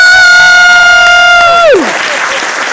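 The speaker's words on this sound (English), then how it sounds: "Ladies, round of applause." A loud sustained tone bends downward and cuts off, then gives way to a burst of crowd applause and cheering at a live performance event.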